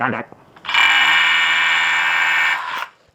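A cordless drill with its trigger pulled while installing a drive pin anchor gives one steady, loud, high-pitched whir lasting about two seconds, then stops.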